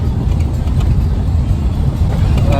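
A car drives at night toward an ice fishing spot near Kyachchi in Yakutia in November, a loud, steady low engine and road rumble heard from inside the cabin.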